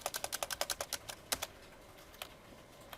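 Fast, quiet clicking of typing on a computer keyboard, a quick run of keystrokes that slows into a few scattered taps.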